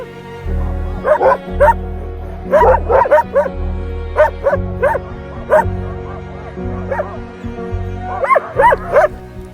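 Several sled dogs bark and yip excitedly in bursts in Finland, close by, with a low rumbling hum underneath and overlapping barks from different animals.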